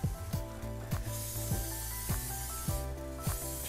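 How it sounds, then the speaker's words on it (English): Short hissing bursts of an olive oil spray mister repeated several times over a steady background sizzle and faint clicking, while coating chicken wings. "I'm gonna take our EVOO spray"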